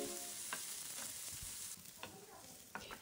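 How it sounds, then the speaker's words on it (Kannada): Onions fry in hot oil in a cooker, giving a steady close sizzle with a few soft stirring scrapes. Partway through the sizzle drops a little quieter, and there is no talking. "ಈಗ ಈರುಳ್ಳಿಯನ್ನು ನಾವು 1-2 ನಿಮಿಷಗಳ ಕಾಲ ಚೆನ್ನಾಗಿ ಫ್ರೈ ಮಾಡ್ಕೊಳ್ಬೇಕಾಗುತ್ತೆ"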